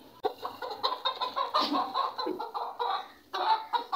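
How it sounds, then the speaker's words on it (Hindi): A rooster being let into a cage at home clucks and squawks agitatedly in rapid, loud, close bursts that continue without pause, rising in intensity midway. "ये हमारा मुर्गा"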